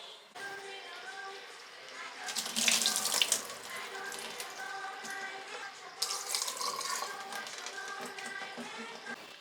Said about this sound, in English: So I'm just going to drain the bamboo shoots and the water chestnuts first.